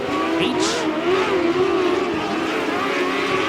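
Micro sprint race cars from a POWRi Outlaw league race at Belle-Clair Speedway roar steadily at high revs, a continuous loud buzzing engine drone from several cars racing together into a corner.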